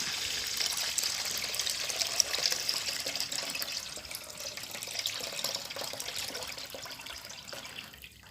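Liquid from soaking tamarind for candied sweet tamarind is poured out of its container in a steady, soft trickling stream that runs the whole time, close and without talk.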